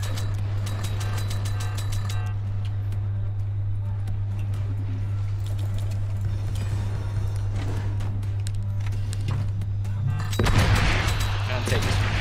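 Cannon fire in the Forts multiplayer game shows up as repeated booming shots through a steady hum, then a louder burst of impacts near the end.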